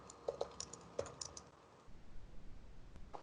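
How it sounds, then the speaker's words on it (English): A few sharp computer keyboard clicks, including a Control+N shortcut, tap out in a quick cluster early on, then fade into faint room noise; quiet and close, with no talking. "Using the control in the keyboard, control plus N to create a new document."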